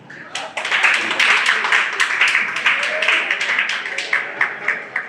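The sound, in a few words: audience applause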